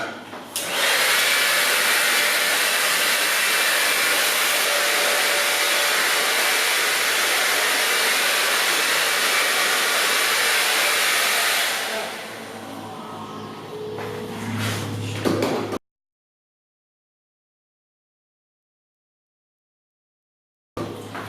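A hair dryer blows loudly and steadily while drying hair during a salon-style hair treatment, with its airflow roar holding for about twelve seconds, then dropping lower before cutting off into silence.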